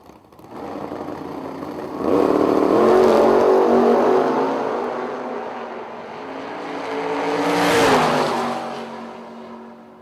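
Drag race cars, including a Firebird, launch down the strip in two loud, close, rising engine roars with strong droning harmonics, each swelling then fading as it pulls away.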